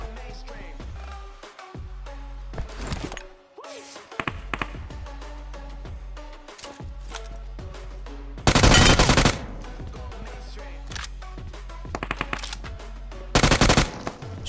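Gunfire in the mobile battle-royale game BGMI: rapid automatic bursts with scattered single shots, two especially loud, dense volleys standing out near the end, with no talking.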